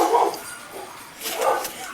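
Dogs bark in the background of an indoor setting, two bursts of barking a moment apart, at moderate distance.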